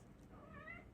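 A single short, quiet meow from a cat rises and falls near the end, heard alone over faint background noise.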